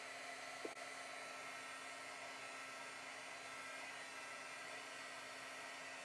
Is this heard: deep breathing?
no